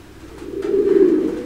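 A single soft, low pigeon coo swells up close and then fades, brief and rounded against quiet background.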